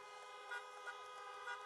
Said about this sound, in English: So honk if you want America to lead again.